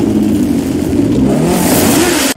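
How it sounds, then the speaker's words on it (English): Ken Block's race car revs hard while drifting, its mid-pitched engine roaring loud and close with a rising, wavering note that cuts off abruptly at the end. "Here's American race car driver Ken Block drifting."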